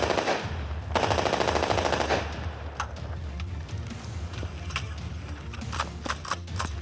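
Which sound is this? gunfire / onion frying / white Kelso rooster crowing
gunfire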